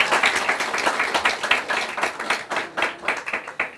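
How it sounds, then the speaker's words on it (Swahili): A student audience claps for a minister, producing a dense, continuous round of applause with rapid overlapping hand claps that swell and fade slightly over a few seconds. "piga makofi tafadhali"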